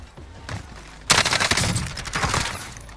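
Gunfire in the Warzone battle royale game crackles in a loud, close burst of rapid shots that starts abruptly after a quieter lead-in and keeps rattling to the end, with no talk over it.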